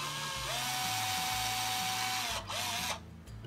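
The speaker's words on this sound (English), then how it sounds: "5/64 inch drill bit in here, which is just the right size for these number 4 screws" A small power drill with a 5/64 inch bit bores a pilot hole for number 4 screws in a wooden box piece, its motor holding a steady high whine, then dropping briefly and stopping, close and alone.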